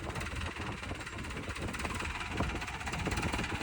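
A tractor engine runs as it is hauled out with a lever rig, a low continuous rumbling drone with rough vibration, steady and moderately distant.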